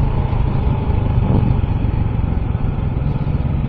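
An old, low-cc classic scrambler-style Honda motorcycle engine runs close and loud with a steady, throbbing idle-like rumble that stays constant throughout, with no talking.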